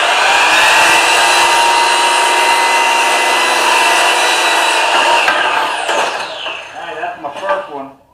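A piece of lumber is sawn through with a loud, steady power-saw whine held close for about six seconds, after which the blade spins down and the noise fades away.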